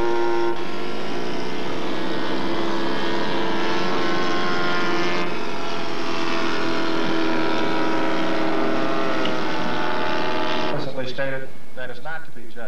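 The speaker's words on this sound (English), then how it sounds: "this Albatross DVA is being flown by Mike Brewer from Astoria, Oregon" A radio-controlled scale model Albatross D.V.A biplane from a Proctor kit drones overhead at a scale flying competition, a loud sustained engine buzz that swells and fades, with talk over it.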